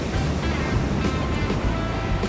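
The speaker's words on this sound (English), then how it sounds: "enjoy the soothing waves crashing in the background" Pacific Ocean surf along the Rincon Parkway beach campground in Ventura, California, a constant washing roar of breaking waves with a few louder swells, close and unbroken.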